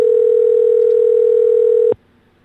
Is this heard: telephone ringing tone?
yes